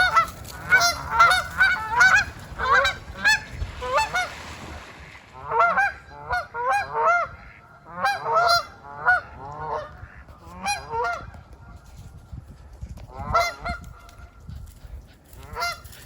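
A flock of geese honks on a farm in loud, repeated clusters of calls with short pauses, fading to scattered honks and then swelling again near the end, without speech.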